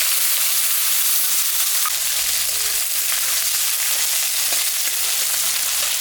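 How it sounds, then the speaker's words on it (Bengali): Onion sizzles in hot oil tempered with cumin and dried chilli, a steady loud frying hiss with faint occasional clicks throughout. "পেঁয়াজটা আমি দিয়ে দিলাম।"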